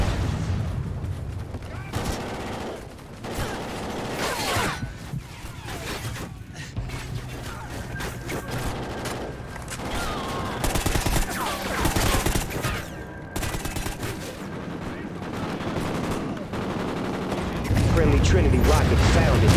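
Trinity rocket strike in Call of Duty Ghosts, a dense run of gunfire and explosive blasts with mechanical clanks, loud and continuous, under game voice lines.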